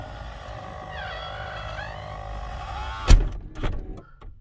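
The automatic trunk release motor on a Lincoln Town Car whines steadily with a rising and falling electric pitch for about three seconds, then stops with a sharp mechanical clunk followed by a few softer knocks.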